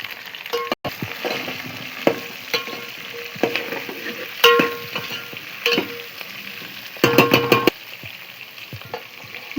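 Vegetables including drumsticks, onions and bottle gourd are stirred in a pan for sambar rice, with repeated scraping and clattering strokes over a steady sizzle, a louder burst of stirring near the end.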